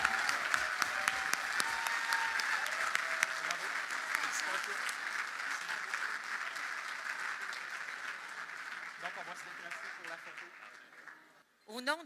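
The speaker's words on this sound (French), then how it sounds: "je vous invite à leur offrir une bonne main d'applaudissements pour les 14 essentiels 2018." Warm applause from a gala audience at the Charlevoix recognition awards, honouring the 2018 nominees; steady clapping with some sharp individual claps early on, gradually thinning out before a voice briefly starts at the end.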